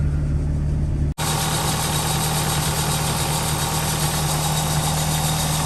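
A 1986 Ford Sierra RS Cosworth engine idles steadily and loudly up close at just over 1,000 RPM, a constant rattly drone after a brief break near the start.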